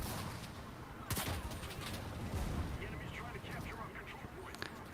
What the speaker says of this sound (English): Just making an absolutely massive crossfire.